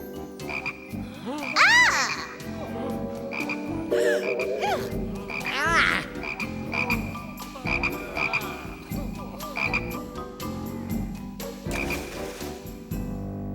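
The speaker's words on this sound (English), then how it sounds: "Make the frogs go away." A cartoon chorus of many frogs croaks in overlapping, bouncy calls over playful background music, with rising and falling ribbits popping up throughout.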